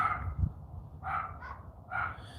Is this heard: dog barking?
yes